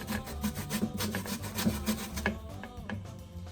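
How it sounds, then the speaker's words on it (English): Cassava root grated by hand for Jamaican bammy, a steady rhythmic rasping scrape repeating several times a second, close and fairly loud, fading slightly near the end. "you can either grate like this, or you can just grate like this"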